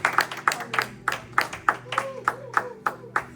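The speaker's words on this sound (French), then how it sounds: "Vamos a aplaudir otra vez al Señor." A church congregation claps in praise of the Lord: a steady, even beat of about a dozen sharp handclaps in a room, with a faint voice beneath.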